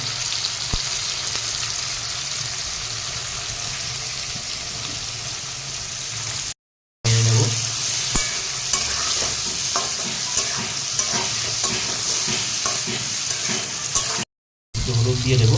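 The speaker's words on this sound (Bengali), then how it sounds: "লাল লাল করবো এটাকে ভাজবো" Dried red chillies and whole garam masala such as cinnamon fry in hot oil in a kadai for mutton curry, giving a steady close sizzle with stirring scrapes and brief interruptions.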